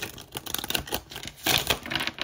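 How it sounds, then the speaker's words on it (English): Tarot cards being shuffled: a short burst of crisp, close riffling flutters and soft papery taps in two quick uneven bursts, with no voices. "Two more shuffles for my beautiful and handsome Capricorns out there."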